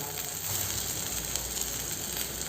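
Onion goes into a pan of sundakkai frying in oil, giving a steady, dense sizzle with a bright hiss that holds evenly throughout at close range, with no speech.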